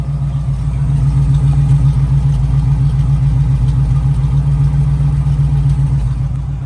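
A 1968 Camaro engine idles steadily after start-up with a loud, continuous low rumble and a regular pulsing firing rhythm, close to the microphone and with no talking over it.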